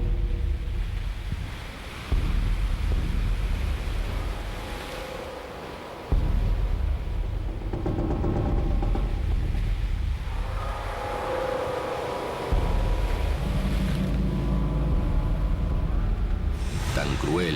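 Sea waves and gusting wind on the rugged coast of A Coruña, a continuous broad roar of surf with heavy low rumbling buffets of wind against the microphone that surge and ease over the whole stretch.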